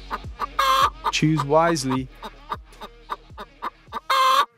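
Chicken clucking and crowing up close, several sharp bursts with a drawn-out cock-a-doodle call in the middle, with a short spoken line between the calls.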